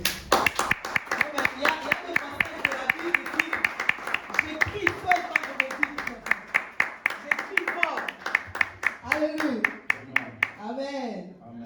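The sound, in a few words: congregation applauding and cheering in church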